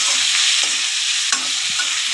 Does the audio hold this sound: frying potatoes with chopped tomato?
yes